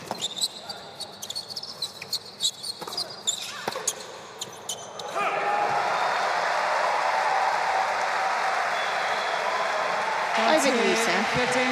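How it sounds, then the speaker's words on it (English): A loud French crowd cheers and roars at a United Cup tennis match in Sydney (France v Norway). Scattered voices and claps build into a dense, sustained wall of cheering that fills the second half. "The French fans down here are very loud"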